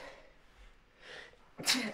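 One person sneezes loudly and close, a sharp burst after a quiet, breathy lead-in.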